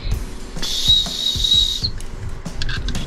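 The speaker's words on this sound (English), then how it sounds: "One of the worst whistles I've ever seen." A cheap plastic whistle from a Target survival kit is blown once in a thin, shrill, breathy tone lasting about a second, with handling knocks and rustles around it.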